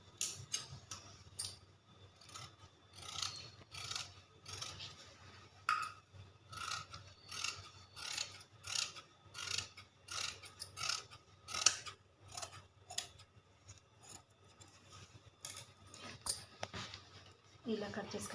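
Scissors snip through cloth being cut for an umbrella skirt in a repeated run of crisp, close cuts with short pauses between them, steady over a low background hum and no talking.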